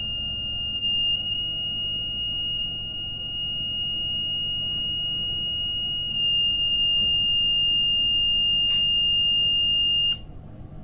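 Alarm buzzer on an XH-M609 low-voltage disconnect charger module sounds as a steady, piercing electronic tone held unbroken for about ten seconds, then cuts off abruptly, close by with a low background hum.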